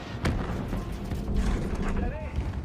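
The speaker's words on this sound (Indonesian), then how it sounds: "mereka diserang oleh tembakan anti pesawat" Anti-aircraft fire over Zeeland in a war film, with sharp cracking bursts and mechanical clatter against a rumbling background and a whistling tone near the end.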